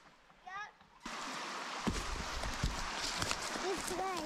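River water splashing and rushing close by at a back-farm campsite, a sudden broadband burst that then holds steady with thumps of movement in the water, while children's voices and chatter come through.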